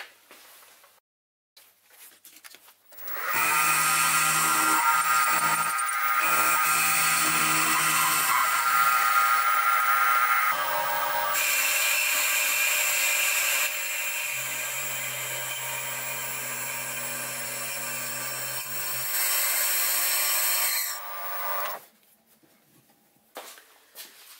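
A milling machine whirs as it mills the top of a Stuart 10V engine standard, a loud steady motorized drone starting after a few seconds, shifting tone midway and stopping near the end.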